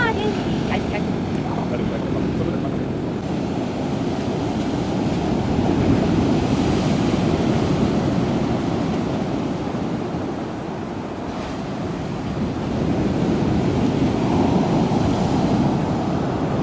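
Ocean surf at the Rotes Kliff on Sylt rolls in as a loud, continuous wash of breaking waves with wind buffeting the microphone, the roar swelling and easing in slow surges.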